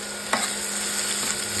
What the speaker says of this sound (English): When they begin to sizzle, add in the finely chopped onions and green chili.